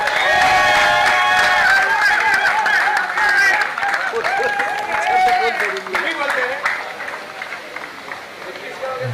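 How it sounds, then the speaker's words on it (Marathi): Loud crowd clapping and cheering at a cricket prize ceremony for a premier league, dense and sustained, fading slightly toward the end as voices and chatter rise beneath it. "अंकित कदम जोरदार टाळ्या वाजवा"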